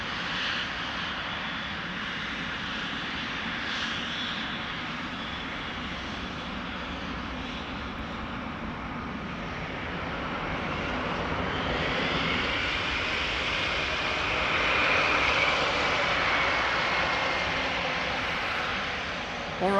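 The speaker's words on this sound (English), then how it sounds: "First a little narrow body that has to take off first." Narrow-body airliner taking off at Amsterdam Schiphol Airport, its engines roaring in a broad, steady rush that swells louder toward the middle and later part, heard from a distance in the open air.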